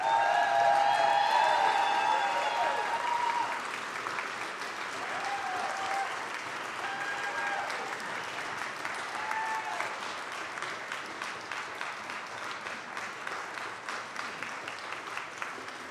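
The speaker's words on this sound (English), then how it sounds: "So can you give a round of applause for Jeff Ricard, who is with us here today?" A large concert audience at a community chorus performance claps steadily in sustained applause, strong at first and then settling into a softer, even patter.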